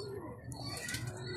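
A young pigeon coos faintly and briefly, a soft low murmur close up in a quiet indoor setting.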